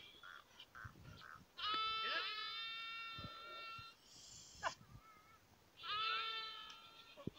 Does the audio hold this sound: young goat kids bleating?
yes